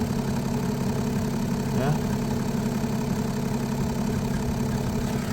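Interior blower fan motor of a BMW 5 Series F10 spinning again after a manual push, giving a steady low hum throughout, with a brief word spoken over it.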